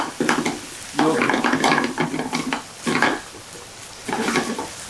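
Saury pieces stir-fried with white wine in a pan over medium heat, giving bursts of sizzling and scraping of the spatula against the pan, loud and close, in several separate passes with short pauses.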